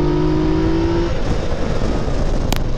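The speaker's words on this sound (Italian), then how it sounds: "sentire un po' il motore, perché se poi alzo marcia siamo un po' più muti con il sound di questo 3 cilindri" A Yamaha Tracer three-cylinder motorcycle engine with an aftermarket exhaust revs hard and loud, a steady rising drone through the first second before settling into a rough, continuous roar.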